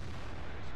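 A tank gun firing in World of Tanks comes through as a short, dense, rumbling blast, loud and close, filling the whole brief moment.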